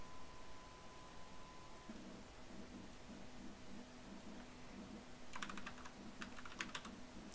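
Typing on a computer keyboard while entering network settings on a computer, heard as soft scattered keystrokes and short bursts of rapid clicks over a faint steady hum, close and quiet.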